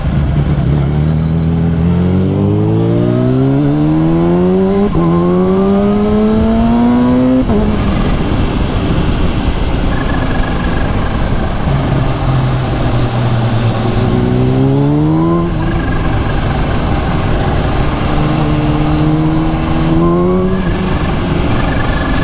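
Supercharged Kawasaki Ninja H2 motorcycle revving up through repeated rising gear pulls, loud and close, with a jerky throttle, engine pitch climbing and dropping between shifts with no talk.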